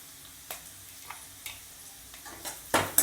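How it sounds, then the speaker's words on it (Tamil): Onions sautéing in a pan for idli upma, with a low steady sizzle broken by a handful of sharp spatula scrapes and clinks as they are stirred, the loudest near the end. "நல்லா வதக்கி விடுங்க."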